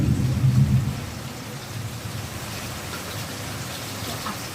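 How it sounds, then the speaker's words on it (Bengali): Steady rain, heard from indoors by a window, hisses throughout, with a heavier rumble at the start that fades into an even, continuous wash of falling water. "দেখো কেমন ভাবে বৃষ্টি হচ্ছে"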